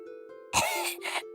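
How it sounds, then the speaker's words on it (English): A cartoon girl coughs as a piece of poisoned apple falls from her throat, two close, harsh bursts over a faint sustained musical tone. "she began to cough"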